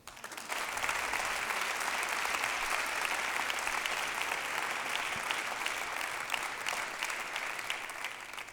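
Sustained applause from a concert audience at a live singer-songwriter show in a theatre, greeting guest musician; steady dense clapping that swells in and carries on loudly for the whole stretch, with no talk over it.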